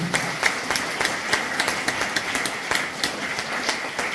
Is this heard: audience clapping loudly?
yes